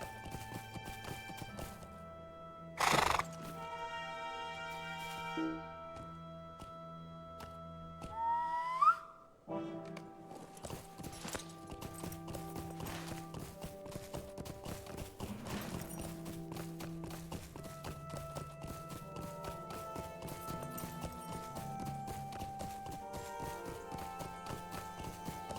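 Horse hooves clip-clopping in the LOTRO (Lord of the Rings Online) video game, a steady walking rhythm under game music with a whistle-like tone early on, moderately loud and continuous.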